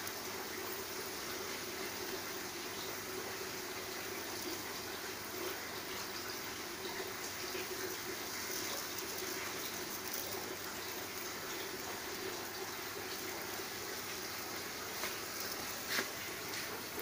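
Nitrobacter mixture sprayed onto dry, barren soil, a steady, moderately faint watery hiss of liquid spray that runs continuously without pause, with no talking.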